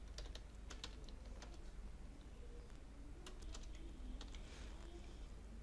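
Fingers typing on a computer keyboard while entering a name into a Word table, a faint run of quick, uneven key clicks over a low steady room hum.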